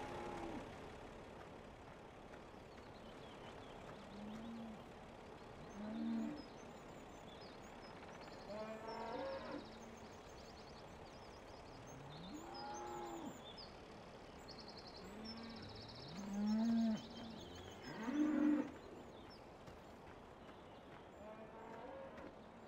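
Cows low on a farm in the game Landwirtschafts-Simulator 17, several drawn-out moos spaced apart over a faint steady ambience, a couple of them louder and closer.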